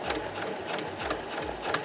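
A sewing machine runs steadily, stitching fabric for a tissue pouch, its motor whirring close with a rhythmic needle chatter throughout.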